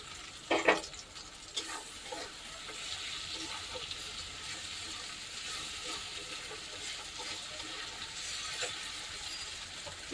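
Garlic, ginger and tomato frying in a pan for a fish curry, a steady close sizzle with stirring scrapes and a couple of sharper clatters near the start, no talk.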